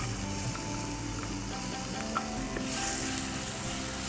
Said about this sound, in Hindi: टमाटर को अच्छे से भून लें ताकि इसकी रॉ स्मेल जो है वो निकल जाए